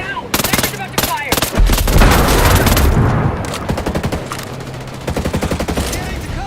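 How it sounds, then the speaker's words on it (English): Rapid bursts of gunfire from Ghost Recon Breakpoint, loud repeated shots and volleys packed densely together, with a brief rumbling stretch in the middle before sharp rhythmic reports resume. "Sniper's about to fire."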